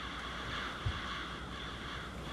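Crows caw in the DayZ video game over a steady wash of ambient game noise, one brief low thump near the middle, with no voices.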